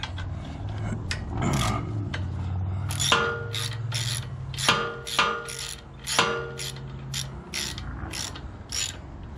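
Repeated sharp ratcheting clicks in quick bursts as a ratchet removes lawn mower engine valve cover bolts, with metallic rasping between them, close by and with no talking.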